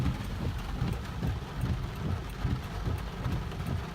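Rainstorm in Manila with dense steady rain hiss and low, rolling rumbles of thunder in the background, continuous and fairly loud, without speech.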